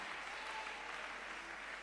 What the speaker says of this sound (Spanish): aplauda, no se quede con las ganas